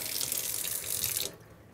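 Tap water running steadily into a sink during hand washing for aseptic garbing, a broad hiss that cuts off abruptly near the end as the faucet is shut, leaving quiet room tone.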